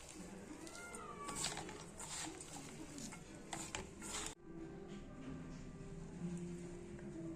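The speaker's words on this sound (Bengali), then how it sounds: "সব কিছু দিয়ে একবারে ভালো মতন মেখে নেব।" Cabbage pakora batter is mixed by hand with chilli powder and nigella seeds, giving soft, wet squelching and stirring sounds. A cat meows in the background near the start, and the sound changes abruptly partway through.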